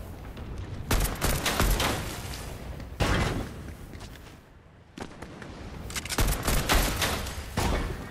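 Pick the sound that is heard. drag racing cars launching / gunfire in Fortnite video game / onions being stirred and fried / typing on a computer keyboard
gunfire in Fortnite video game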